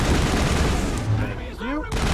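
Rapid machine gun fire in Mass Effect 1, dense loud bursts with a brief pause, mixed with other combat noise and a short electronic whine.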